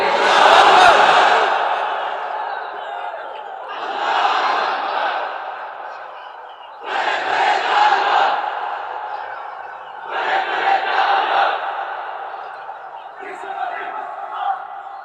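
A large crowd at a religious sermon shouts the takbir together in five loud, roaring bursts, each a couple of seconds long, separated by short pauses of near silence.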